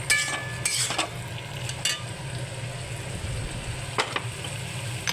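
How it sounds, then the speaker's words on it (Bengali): Cauliflower and mixed vegetables fry in a pan with sour yogurt while being stirred, a soft continuous sizzle under several sharp scrapes and clinks of the spoon against the pan. "এবার ভালো করে নেড়ে নেব।"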